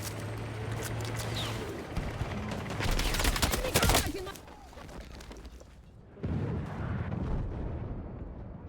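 Heavy gunfire and explosive blasts rage across a Battlefield 4 multiplayer battlefield, dense bursts of shots piling up with a loud peak midway, easing off, then swelling again, with faint talk underneath.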